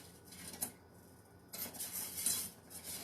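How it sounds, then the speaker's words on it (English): A utensil clinks and scrapes against a pot while a cooking glaze is stirred, with a few soft knocks, a brief quieter pause, then more rustling stirring, close and fairly faint with no voices. "Just checking it, stirring it."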